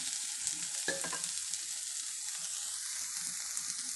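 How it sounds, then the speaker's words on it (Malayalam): Soybean roast with black pepper sizzles steadily in a pan while being stirred, a continuous close frying hiss with a brief scrape of the spoon near the start and no talking. "നല്ലതായിട്ടൊന്ന് മിക്സ് ആക്കട്ടെ"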